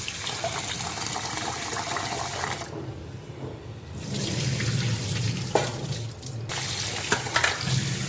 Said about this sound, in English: Now we need to wash poha very well 2-3 times in running water